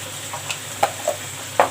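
Macaroni bechamel being stirred in a pan after salt and black pepper go in: a few soft scraping taps over a faint, steady sizzle, close and brief.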